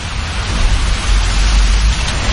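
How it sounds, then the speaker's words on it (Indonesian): Heavy rain pours down steadily at night, a dense, constant roar of water with a deep low rumble underneath, loud and close with no voices. "Karena mungkin akibat berisiknya air hujan dan petir saat itu."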